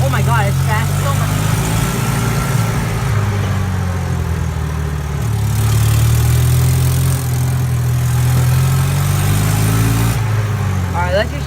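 A golf cart engine running steadily on its first drive after a carburetor change, a low droning hum with shifting pitch as it moves along, speech intermittently over it.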